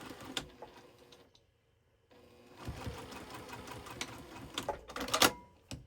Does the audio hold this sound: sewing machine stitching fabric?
yes